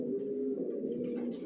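Racer pigeon chicks in a loft coo in a low, continuous murmur, close and steady, with a faint higher chirp near the end.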